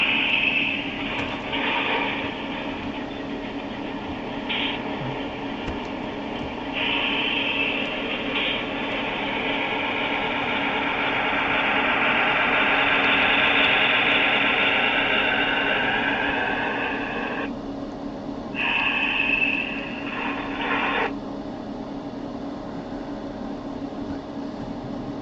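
A model Milwaukee Road locomotive runs steadily, its motor giving a continuous whirring hum that swells in the middle and fades slightly toward the end. No talking is heard.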